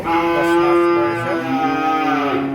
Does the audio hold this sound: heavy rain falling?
no